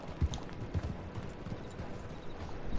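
A horse's hooves clip-clop at a steady walking pace on the ground in Red Dead Redemption 2. The hoofbeats are soft and low in the mix over a faint ambient background.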